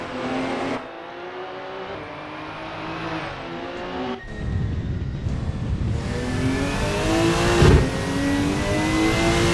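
An Evo race car in a racing video game at a South Dakota circuit revs and accelerates hard through gear changes, its loud, close engine note climbing and dropping repeatedly with a brief tire squeal.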